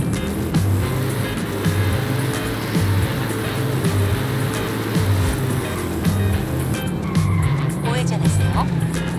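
An old car in Forza Horizon 5 drives hard, its engine droning steadily while tires squeal and skid through corners, loud and continuous, with some talk over it.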